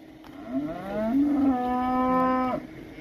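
Cattle lowing in a farm corral during a sale of dairy cows, with one long drawn-out moo rising and holding steady, loud and close, with no talking over it.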